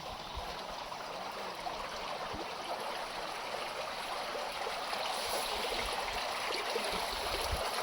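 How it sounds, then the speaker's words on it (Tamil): A mountain stream rushes steadily in the Kinnaur Valley near Chitkul, a continuous broadband wash of flowing water, close and even throughout with no voices. "இந்த தண்ணி சவுண்டு பாருங்கள் எப்படி இருக்கு பாருங்கள்"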